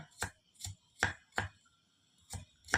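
Sharp knife chops through onions on a cutting board, six distinct strikes in an uneven rhythm, close and clear with quiet pauses between.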